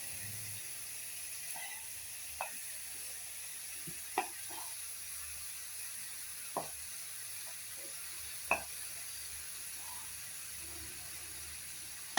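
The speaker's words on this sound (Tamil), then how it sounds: "இப்போ வா வந்து வறுத்து வச்ச ஒவ்வொரு காயும் எல்லா காயும் சேர்த்து போட்டுருவோம்" Mixed vegetables, fried earlier, tumble back into a hot pan for a vegetable curry, with a quiet steady sizzle under sparse clicks and scrapes of stirring; no one speaks.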